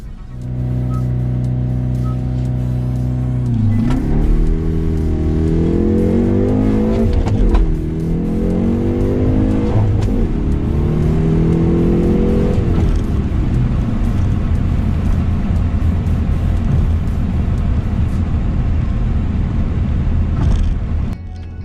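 A 2019 Hyundai Veloster N on a dirty, wet road: a loud held idle drone, then an aggressive launch with rising engine revs through several quick gear changes, settling into a steady roar, heard from inside the car without talk.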